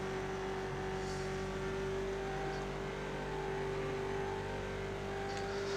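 Ford Mustang race car engine in the iRacing sim, a steady sustained drone holding one pitch throughout, close and continuous with no talk.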